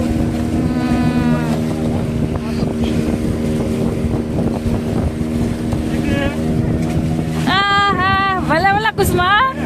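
A motorboat carries passengers across the sea off Palolem beach in Goa, its engine a steady close drone under wind buffeting, with people talking and exclaiming throughout.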